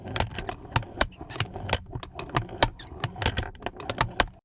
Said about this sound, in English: These are from the ultrasonic mechanical movement sequence asset.